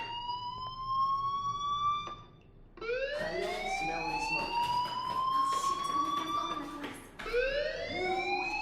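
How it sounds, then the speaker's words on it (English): Fire alarm in the Life is Strange video game, wailing in rising and falling electronic sweeps that briefly cut out and resume, loud and continuous with a steady background hum. "do you hear that fire alarm? That means you should be outside."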